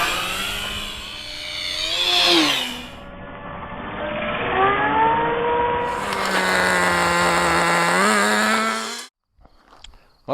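An E-Flite RV-7 radio-controlled airplane makes a full-speed pass at sunset in near-calm air, its motor whine rising and bending in pitch as it sweeps past, loud and close, then cutting off abruptly near the end.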